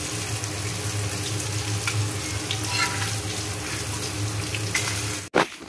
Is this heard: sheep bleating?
no